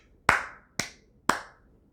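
Three sharp hand claps spaced about half a second apart, each a crisp snap with a quick decay, counting out steady beats alone in a quiet room.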